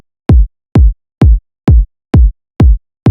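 Kick drum sample, Odd Frequency kick number 2, saturated, clipped and limited for minimal bass music: seven loud, punchy, tight thumps in an even steady pulse, alone with no voices.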